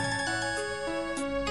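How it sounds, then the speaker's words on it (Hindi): A phone ringtone plays a steady, loud melodic tune with sustained electronic tones and soft chime-like accents, repeating without pause and with no voices over it. "Your phone is ringing, please pick up the call."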